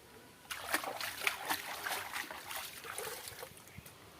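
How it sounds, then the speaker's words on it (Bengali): Hands washing a large pangas fish, about 4 kg and pond-caught, in water, with soft splashing and sloshing that is faint and fairly steady through the clip. "ভালো করে মাছটা ধুয়ে নিচ্ছি।"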